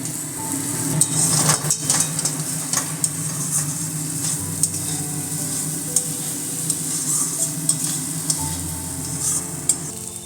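Potatoes sizzle in a frying pan with a little water, a continuous hiss over repeated scraping and clinking stirring strokes that come close and distinct, with no talk.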